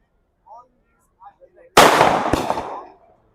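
Firecrackers go off at an evening football match, a dense loud crackling burst of rapid pops with one sharper bang inside it, lasting about a second and a half and fading out, after faint murmured voices.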